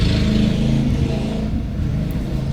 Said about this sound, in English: the guy riding a go-kart around outside, you might hear that on the video